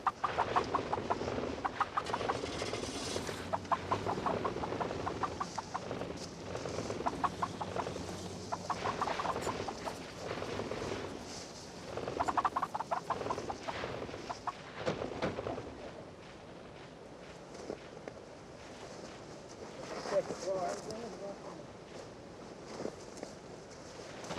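Captured wild turkeys cluck and call while biologists handle and calm them during a field trapping, loud nearby bird calls in irregular bursts alongside shuffling footsteps and movement.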